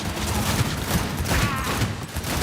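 Sustained burst of gunfire in the video game Cyberpunk 2077, loud and dense, with rapid overlapping shots filling the whole stretch and a faint voice briefly underneath.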